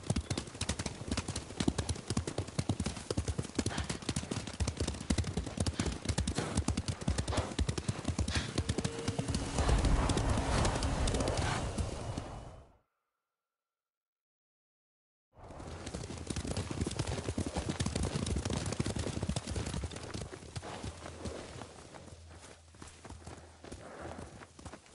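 Horses galloping in the Ghost of Tsushima video game, a dense continuous clatter of hooves that drops into silence partway through, then resumes with rumbling movement and some ambient sound.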